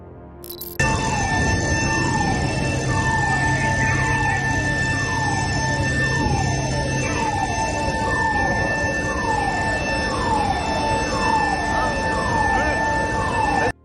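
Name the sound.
emergency vehicle sirens at steel mill fire in Germany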